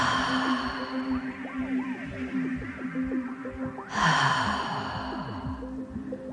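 Several audible exhales during a workout stretch, breathy sighs at a slow, steady pace, close and fairly soft, with one stronger exhale partway through and a faint tonal background.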